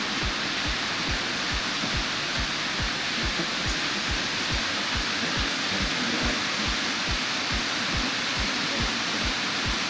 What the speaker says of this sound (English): The Gibbon River drops approximately 84 feet into a rocky canyon